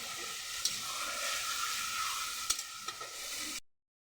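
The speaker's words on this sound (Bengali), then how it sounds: "এর মধ্যে আমি অল্প নমক দিয়ে দিচ্ছি, তাহলে পেঁয়াজটা জলদি ভাজা হয়ে যাবে।" Chopped onions fry with a little salt in a pan, giving a steady close sizzle broken by a few clinks and scrapes of stirring before the sound stops suddenly.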